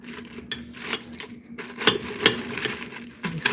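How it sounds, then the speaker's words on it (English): Ground beef spooned into a slow cooker for a freezer supper, giving soft scraping and clinking of a utensil against a pot, with small irregular taps and thuds close up, alone and without talk. "Now we need to spoon 1/4 of the ground beef into the slow cooker."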